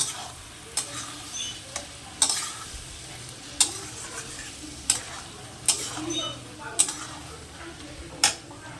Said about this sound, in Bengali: ভালো করে এবার আমি এটাকে কষাতে থাকবো একদম সিম আঁচ করে মশলাটা ভালো করে কষাবো